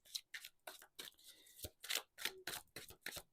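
Tarot cards are shuffled in quick, crisp bursts of riffling and snapping, close and fairly quiet, in a steady uneven rhythm of short flicks.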